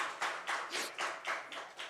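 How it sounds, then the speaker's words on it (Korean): A church congregation at a Sunday service claps in praise with a steady, even beat, about four claps a second, sounding soft and somewhat distant, with no talking. "우리 하나님께 영광의 박수 올려드리겠습니다."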